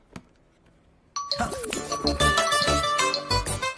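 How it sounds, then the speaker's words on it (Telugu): A mobile phone chimes a message notification tone in an office setting, a brief ding after near silence, followed by dense overlapping music and sound that stays loud to the end. "మెసేజ్ వచ్చింది సార్."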